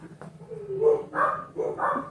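A pet dog barks three or four times close by indoors, each bark loud and clear, with brief gaps between them and no talking over them.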